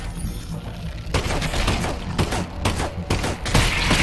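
Rapid bursts of gunfire from a VR horror video game by Valve, a fusillade of loud close shots in quick irregular succession over roughly four seconds with no talking.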